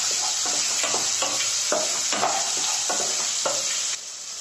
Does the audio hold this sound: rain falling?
no